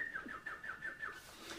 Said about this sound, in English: We can whistle.